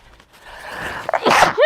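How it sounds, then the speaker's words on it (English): A single sneeze builds from a sharp inhale to a loud, explosive burst at the end, close to the listener. "I'm going to sneeze, excuse me."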